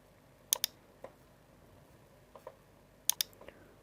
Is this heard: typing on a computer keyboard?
yes